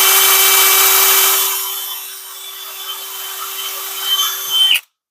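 A drill bores through a plastic gauge cluster part, giving a steady high whine with a grinding, scraping texture that eases, builds again and then cuts off abruptly.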